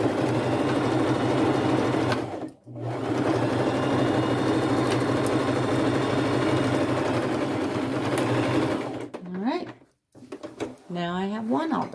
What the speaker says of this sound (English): I'll just zigzag stitch that shut